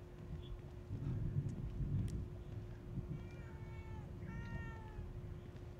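A cat meows a few times in the horror video game The Evil Within 2, the short, fairly faint calls rising over a dull, rumbling ambient background.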